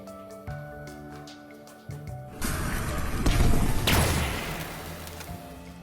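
Pineapples and watermelons heated to over 2700 degrees burst in a sudden loud crash and sizzling spray after a quieter hum, recorded as impact and destruction sounds for the Halo game; a voice is heard.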